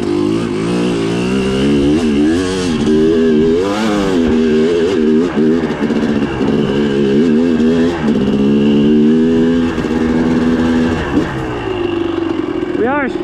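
Off-road motorcycle on a cold, damp dirt trail, its engine loud and close, revving up and down repeatedly in uneven surges before settling toward idle, with a rider's voice talking over it.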